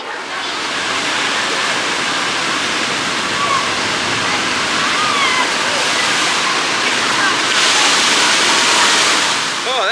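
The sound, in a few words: log flume boat plunging down into water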